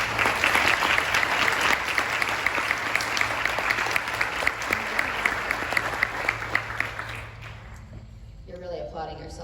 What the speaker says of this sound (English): You're really applauding yourself, good job.